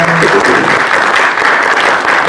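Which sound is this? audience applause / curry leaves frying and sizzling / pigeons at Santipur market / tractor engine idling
audience applause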